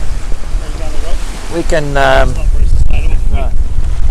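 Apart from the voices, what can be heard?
sailboat Cape George 36 sailing in wind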